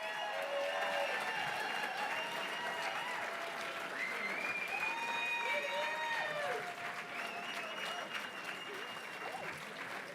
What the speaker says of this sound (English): Would you give Martha and Rick and Carol and Tom and Susan a big round of applause?